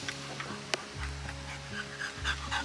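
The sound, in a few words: small dog panting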